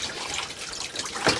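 Water pours and splashes steadily during a hair wash aboard a narrowboat, a continuous close trickle with a brief louder gush near the end.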